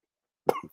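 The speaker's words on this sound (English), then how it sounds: "just how everyone wants to watch AOC with some stoner coughing over it" One person coughs once, a short, harsh, close burst with a faint trailing rasp, after a moment of silence.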